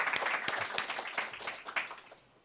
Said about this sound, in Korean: 하나님께 영광과 찬양의 박수 올려드리겠습니다.